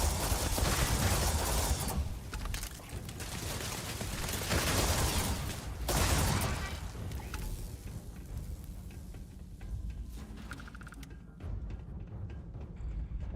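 Turret gunfire in the video game Starfield: Shattered Space, sustained bursts of rapid automatic fire with loud surges around the second and sixth seconds, mixed with game ambience and fading near the end, no talking.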